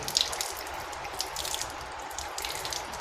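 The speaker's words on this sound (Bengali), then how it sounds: "প্রথমে আপনারা ডান হাতের কবজি পর্যন্ত এই যে কবজি পর্যন্ত তিনবার ধৌত করবেন" Running water splashes over a right hand and wrist during wudu, a close, steady trickle with small drips and splashes, alone and without voices.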